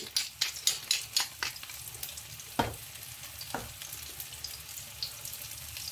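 Tofu and shrimp sizzle in a hot pan, with a run of quick, rhythmic stirring scrapes at the start, then a steady fry broken by two sharper clatters, heard close and without talk.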